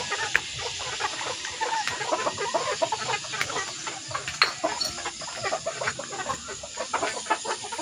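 A flock of chickens clucking and chattering continuously at morning feeding time, many birds at once, fairly close and busy.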